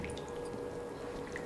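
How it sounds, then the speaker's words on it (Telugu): Chopped snake gourd squeezed firmly by hand, releasing faint wet squishes and soft trickling drips of water running out between the fingers. "గట్టిగా వేళ్ళ మధ్యలోంచి నీళ్ళు వెళ్ళిపోయేటట్టు ఇట్లా గట్టిగా ఇలా పిండుకోవాలి"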